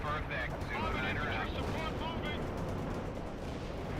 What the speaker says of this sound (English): General artillery barrage this way.